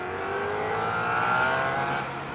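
Allen SSE001 single-seat Can-Am sports racers roar past on a race circuit, a steady high engine whine swelling to a peak and then easing off.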